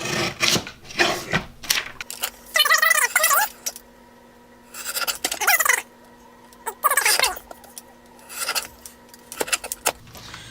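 A small picture-cropping paper trimmer slices through a paper ruler in several close, scraping strokes, each a rasping, slightly squeaky burst separated by short pauses, with no talking.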